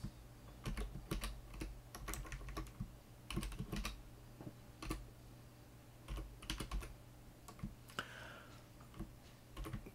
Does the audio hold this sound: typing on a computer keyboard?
yes